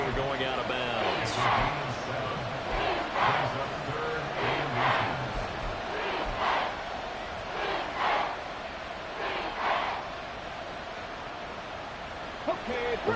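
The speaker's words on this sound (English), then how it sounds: "This crowd trying to force a false start here." A football stadium crowd roars loudly during an American football game, trying to force a false start; the swelling, steady roar sits under an announcer's play-by-play commentary.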